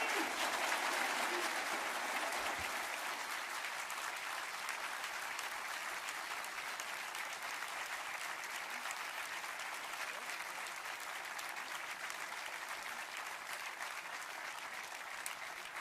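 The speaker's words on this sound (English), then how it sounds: "let's give another round of applause for our candidates." Sustained audience applause for candidates at a Stamford mayoral debate, a steady, moderately distant wash of clapping lasting throughout with no voices over it.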